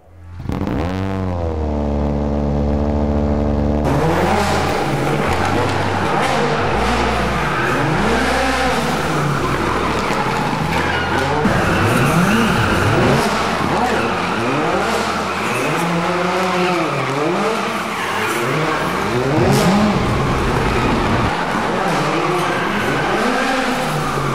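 A Citroën WRC rally car of the 2017–2019 era revs hard at close range, with repeated rising and falling engine sweeps as it accelerates and shifts. It runs loud and unbroken throughout, with hints of tire noise.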